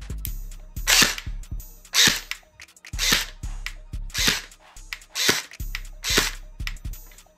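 An Umarex HK416 low-power electric airsoft gun fires at a cardboard target, giving about seven sharp, snappy shots spaced roughly a second apart, each with a brief mechanical clack, close and clear.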